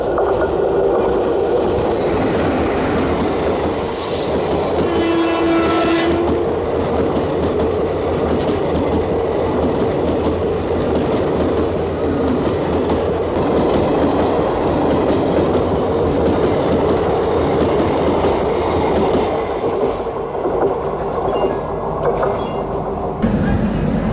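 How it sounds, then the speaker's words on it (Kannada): The Seshadri Express, running from Bengaluru to Kakinada Town, passes close by with a steady, loud rumble and clattering wheels, and a brief horn blast sounds near the start. "SMUT ಬೆಂಗಳೂರಿಂದ ಕಾಕಿನಾಡ ಟೌನ್ಗೆ ಹೋಗುವಂಥ ಶೇಷಾದ್ರಿ ಎಕ್ಸ್ಪ್ರೆಸ್"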